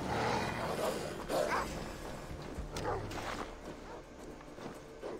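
A dog barks a few times with some whimpering yips, set against a dim ambient backdrop, the barks fading as the clip goes on, in the video game Assassin's Creed Valhalla.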